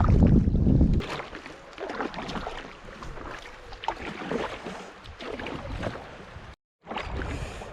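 A lighter-weight paddle working a paddleboard along the River Wye, with rhythmic splashing strokes and water movement under steady wind noise on the microphone, close and fairly loud.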